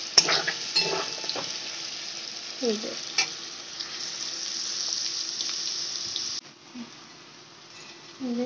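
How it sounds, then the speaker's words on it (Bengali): Chowmein stir-frying in a pan for a home dinner, with a steady sizzle and scattered stirring clatter, plus brief water splashes from a tap. "চাউমিন রান্না করছি বাবা মায়ের জন্য একটুখানি।"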